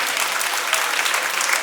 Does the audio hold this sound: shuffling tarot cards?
no